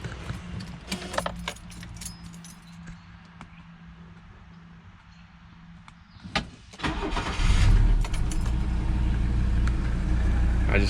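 Diesel engine with new glow plugs starts after keys jangle, then idles with the throttle held slightly open, a loud steady close rumble after a cranking burst, no talk.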